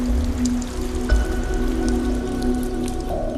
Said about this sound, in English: We had a stalactite that ran with water.